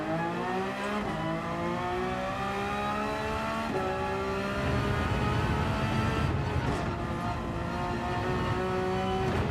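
A Porsche GT3 race car engine in Gran Turismo 7, loud and continuous, its whining note climbing steadily through the revs, briefly dropping at a gear change around the middle, then rising again with some rumbling road noise.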